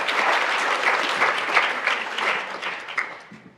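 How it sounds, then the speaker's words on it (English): An audience at an awards gala breaks into warm applause, dense clapping from many people that swells and then gradually tapers off toward the end. "Give yourself a big round of applause for doing the things that you do to keep us going."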